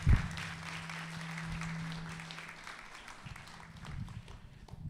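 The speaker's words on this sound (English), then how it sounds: "please join me in saying thanks to our four panelists with a round of applause" A lecture audience claps in thanks for four panelists, with moderate, somewhat distant applause under a steady low hum that tapers gradually, with a few louder bumps near the start and end.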